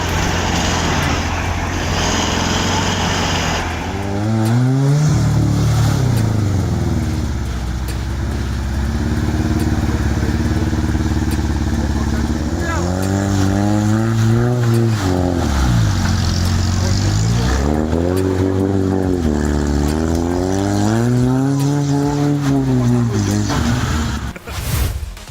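Big off-road trucks, among them a Kraz 255, grind through mud in a group outing, loud diesel engines droning continuously with repeated rising and falling revs as the drivers push on, close and sustained.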